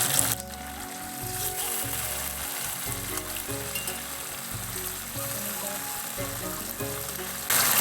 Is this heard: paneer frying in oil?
yes